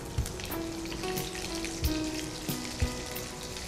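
Chopped garlic sizzles steadily in hot oil in a frying pan while dill leaf stir fry (vadappi) is cooked, with a constant crackling hiss and a few soft clinks of utensils.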